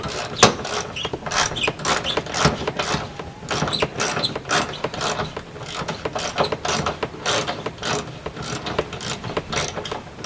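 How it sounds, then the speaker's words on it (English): A hand ratchet turns a 10mm socket on an extension to loosen a front bumper bolt on a Chrysler 300, giving rapid, continuous close-up clicking in steady back-and-forth strokes with no talk. "So just use your 10mm socket with the extension"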